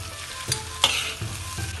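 Chicken fried rice with soy sauce being stirred in a hot pan, several scraping stir strokes over a soft sizzle, close and without talk.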